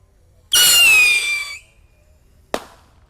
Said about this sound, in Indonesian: Selanjutnya yang kita nyalakan di sini ada mercon Roket Piro. Kita lihat seperti apa ini meluncurnya.